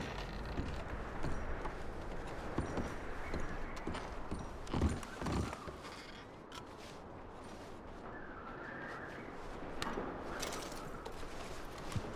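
Steady clip-clop of horse hooves walking in the video game Red Dead Redemption 2, continuous and fairly close, with occasional louder thuds and a faint whinny-like sound in the background.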